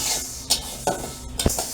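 Close scraping and clinking of a spoon stirring mung dal in a pan, a few quick strokes over a faint dry sizzle.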